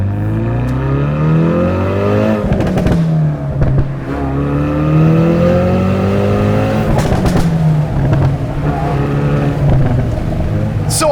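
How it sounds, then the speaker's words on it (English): A Hyundai Veloster N with an adjustable exhaust revs hard and close, its engine note climbing and falling in repeated sweeps, broken by sharp pops and crackles from the exhaust between pulls. "this one probably has the most unbelievable adjustable exhaust I have ever been in"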